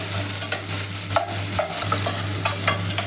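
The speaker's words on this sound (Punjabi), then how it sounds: "ਆਪਾਂ ਹਲਕੇ ਜਿਹੇ ਪਿਆਜ਼ ਭੁੰਨ ਲਵਾਂਗੇ" Onions and finely chopped ginger frying with cumin seeds in a pan for dalia, loud continuous close sizzling with stirring scrapes and an electrical hum underneath.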